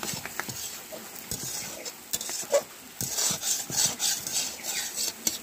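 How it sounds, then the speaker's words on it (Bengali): Semolina (suji) and a little ghee stirred together for upma, giving a dry scraping and rubbing of a spoon against the pan in uneven strokes, close and fairly quiet, with no talking. "আমি এই সব কিছু দিয়ে খুব ভালো করে মিশিয়ে নেব।"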